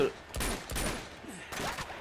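Gunfire bursts in the PlayStation 4 action game Uncharted 2, several close, loud shots in quick succession, heavy at the start, then a pause and another burst toward the end.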